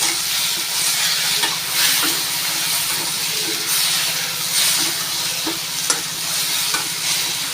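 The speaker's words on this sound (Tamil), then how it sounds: "இப்போ நம்ம அரிஞ்சு வச்சுருக்க தக்காளி ஆட் பண்ணிடலாம். இதையும் நல்லா வதக்கிட்டு" Steady sizzling and frying of chopped tomatoes in a pan, with intermittent stirring scrapes and soft clinks throughout, close and fairly loud.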